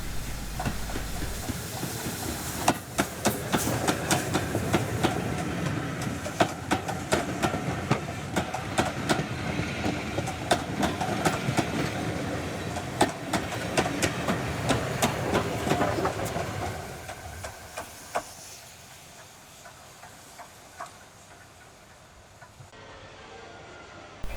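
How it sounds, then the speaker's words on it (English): A BR Standard Class 4 steam locomotive hauling a service train past near Bury Bolton Street, with rhythmic clattering and chuffing that builds, holds for a while, then fades into the distance. "The Standard 4 is seen returning to Bury Bolton Street with a service train"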